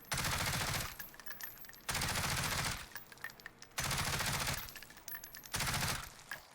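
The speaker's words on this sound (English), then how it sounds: "if I fire bullets up to here and I stop firing, it'll automatically come back to the same spot" Automatic weapon fire in Call of Duty Warzone, four sustained bursts of rapid shots, each about a second long and separated by short pauses, loud and close with no talking.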